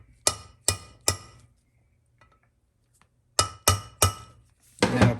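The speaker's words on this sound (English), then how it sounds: "we're just going to take a rounded chisel and then stake them in their respective locations" A rounded chisel is hammered against transmission bushings during a Ford C6 rebuild, giving sharp metallic strikes in two quick groups of three to four blows with a short pause between, close and without talk.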